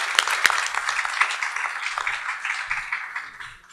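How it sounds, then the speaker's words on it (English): A conference audience at an international legal conference gives a round of applause welcoming a speaker, a dense, moderately loud patter of many hands with a few sharp claps that slowly fades. "And your big round of applause"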